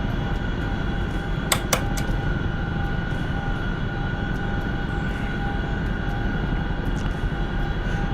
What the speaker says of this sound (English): I just got the Chinook, so I'm still pretty raw with it, but I fly it a lot.